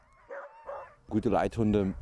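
Sled dogs on a racing team in Norway's Arctic whine and yip in short bursts, building to louder, excited barking close by.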